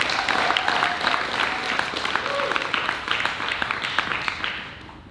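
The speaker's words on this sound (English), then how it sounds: "So let's give them a round of applause." Audience applause at a school presentation celebration at an international school in Kuala Lumpur, a steady wash of clapping from a sizeable crowd that carries on for several seconds before tapering off near the end.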